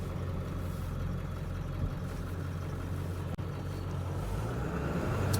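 A 2001 Ford Excursion Limited with a 7.3L Powerstroke diesel drives with a steady low engine rumble heard from inside the cab, and a single brief click partway through.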